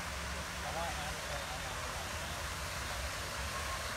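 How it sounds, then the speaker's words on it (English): Steady, broadband rushing of a waterfall at an arboretum in Arcadia, California, heard as a constant wash of falling water at moderate distance with no talk over it. "There's the waterfall."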